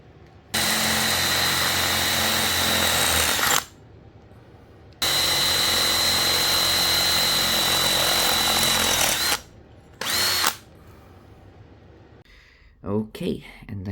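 A power drill boring two 6mm holes in a part for a model trailer. Two loud, sustained bursts of steady whine, each about three to four seconds, with a short third burst after them and faint handling noises at the end.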